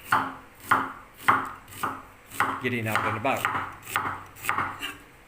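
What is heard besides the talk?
chopping onions with a knife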